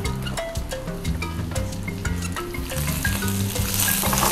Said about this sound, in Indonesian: Langsung aja kita tumis bumbu yang tadi udah kita rajang